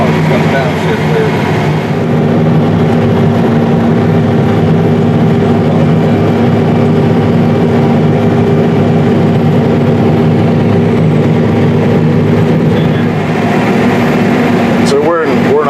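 Heavy low engine drone of a Versatile 450 Delta Track tractor working packed black prairie soil, shifting down partway through, running steadily throughout with people talking over the cab noise.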